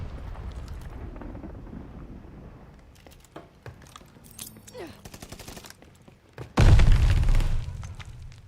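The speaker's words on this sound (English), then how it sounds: "Glide bomber assist coming in" A glide bomber airstrike in the Call of Duty Vanguard video game: scattered gunfire and crackles, then a loud, heavy explosive roar bursts in near the end and sustains for about two seconds.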